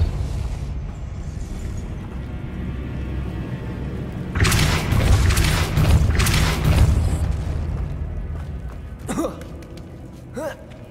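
A Depulso spell blast in Hogwarts Legacy gives a loud, broadband whooshing burst that swells and rolls for about three seconds over constant game rumble, followed by a couple of short, sharp effect sounds.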